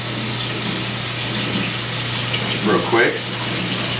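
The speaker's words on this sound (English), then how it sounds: "and I'll rinse off my hands" Kitchen tap water runs steadily as hands are rinsed during prime rib preparation, a close continuous splashing gush while someone talks briefly over it.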